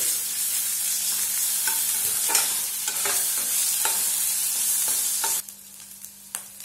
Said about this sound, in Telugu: అల్లం వెల్లుల్లి పేస్ట్ స్మెల్ వాసన పోయేంత వరకు కొద్దిగా వేపుకుందామండి